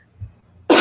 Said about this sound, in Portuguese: desculpa que eu vou tossir bastante